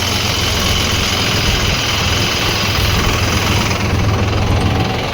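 A tractor engine runs steadily on a farm, a loud, even low rumble with a dense mechanical chatter that holds constant throughout, close by and with no talk.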